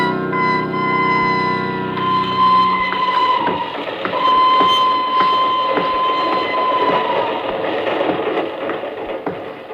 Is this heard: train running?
yes